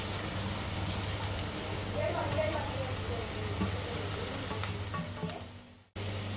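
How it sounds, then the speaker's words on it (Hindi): Carrot, French beans and cabbage stir-fry in a hot pan with a dense, steady sizzle and occasional scraping stirs, close by, cutting out abruptly near the end before resuming. "दो मिनट तक मैंने कैरेट और फ्रेंच बीन्स फ्राई कर दी है, मैं इसमें कैबेज ऐड करूंगी।"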